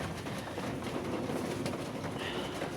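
Pigeons fed outdoors on a freezing winter evening at about -10°C in snow give soft, steady cooing and faint rustling, nearby, over a continuous low background hum without talk.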